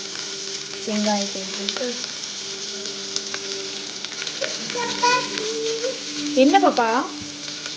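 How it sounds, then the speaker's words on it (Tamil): Sliced onions sautéing in a pan for a gravy, a continuous close sizzle with occasional stirring, while people talk over it, including a child. "வெங்காயம் நல்லா ப்ரௌனிஷாக வர வரைக்கும் வெங்காயம் நல்லா வதக்குவோம்"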